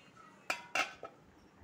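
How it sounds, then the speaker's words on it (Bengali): A metal lid lifted off a cooking pot of boiling potatoes, giving two or three quick clinks and scrapes of metal over a quiet background. "ঢাকনাটা খুলে দিব।"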